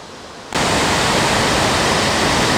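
Waterfall on the Presque Isle River in Michigan, a wide fall with tree trunks and debris midstream, roars as a loud, steady broadband rush that surges in abruptly after a quiet half-second and holds constant.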